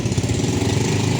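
A motorcycle engine runs loud and close, a steady low chugging rumble with a rapid pulsing beat, brief and alone.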